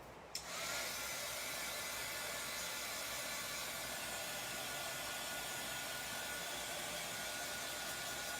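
A hair dryer blows steadily on chalk paste spread over a stencil, a continuous close, even rush of air that starts abruptly and runs without a break.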